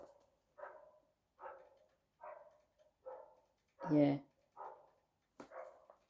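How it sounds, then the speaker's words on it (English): A dog barks outside in a steady series of single woofs about once a second, moderately loud and slightly distant, with a louder, fuller bark partway through and a brief word from a person. "that dog's going crazy out there"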